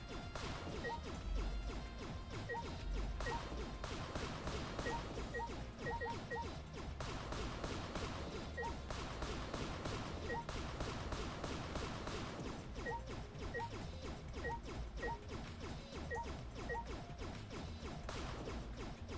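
Repeated smashing and whacking hits on a projector and other objects in Danganronpa V3, with dense crashes and impacts over game music throughout, fairly loud and continuous.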